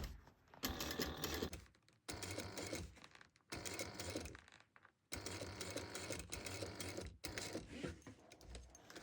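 A sewing machine stitches and backstitches a bag in several close, loud bursts of rapid mechanical whirring, separated by short pauses.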